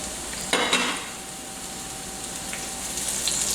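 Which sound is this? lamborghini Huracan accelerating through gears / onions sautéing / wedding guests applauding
onions sautéing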